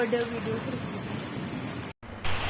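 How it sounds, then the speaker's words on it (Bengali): Rain patters steadily and fairly softly, a dense wash of drops, with a short gap near the end. "সেই রকম বৃষ্টি হয়েছে"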